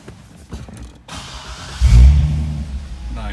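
A 2008 Corvette convertible 4LT Z51 with a performance exhaust cranks and fires up, a loud throaty burst after a second of mechanical clicks and creaks, then settles into a rumbling idle.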